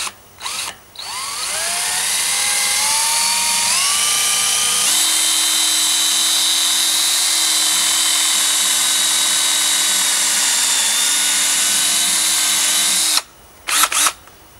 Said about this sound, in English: I'm using a 7/32 drill bit in my drill